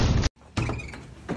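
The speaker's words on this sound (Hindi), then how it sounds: "दरवाजा तोड़।" A door in an old abandoned haveli is forced open: a loud burst of impact and scraping, then a sharp cutoff, a short pause, and more rattling and knocking noise that follows.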